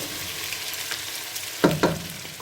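A large onion sizzles steadily in a hot pan as it browns for a bolognese sauce, a constant close hiss broken near the end by two scraping stirs of a utensil.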